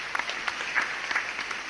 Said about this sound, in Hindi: तो विशेष तालियां आपके लिए होना चाहिए।